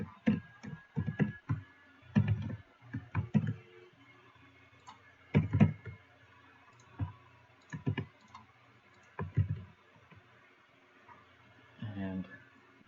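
Someone types code on a computer keyboard, producing short, close bursts of clicking keystrokes in separate clusters with quiet gaps between them.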